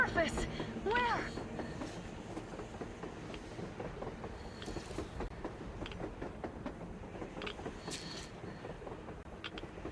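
A train rolls across the surface in the post-apocalyptic shooter Metro Exodus, a steady rumble with rattling clatter and metallic clicks heard at a distance, partly under voices.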